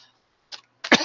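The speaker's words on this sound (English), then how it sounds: "So sorry about all the coughing today" A woman coughs indoors, two short dry bursts close to the microphone after a brief quiet pause, the second harsher and louder.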